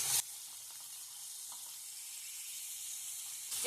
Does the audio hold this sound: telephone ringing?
no